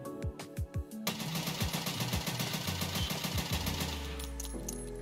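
An SR-25 rifle with a 20-inch barrel fires in Escape from Tarkov: a few spaced single shots, then a rapid, sustained string of loud, close reports ending in a ringing tail.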